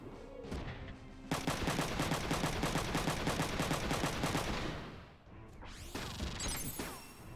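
A rapid burst of gunfire from the video game Front Mission 3, a steady rattling volley lasting several seconds, framed by quieter game effects before and after.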